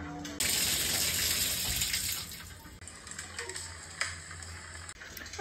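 Shower water runs in a home bathroom, a loud steady hiss of spray that softens and becomes more uneven after about two seconds, close up with no talking.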